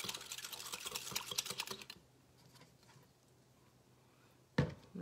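Blue cheese buttermilk salad dressing whisked in a bowl, a quick run of close, rapid clicking strokes for about two seconds, then quiet with a single sharp knock near the end.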